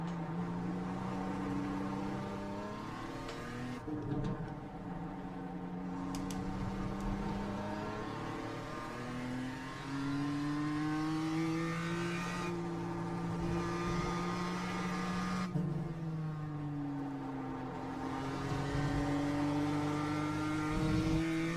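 A BMW M2 laps the Okayama circuit, a sustained engine note rising and falling as it climbs through the gears and drops for braking, heard from inside the car and fairly steady and moderately loud throughout.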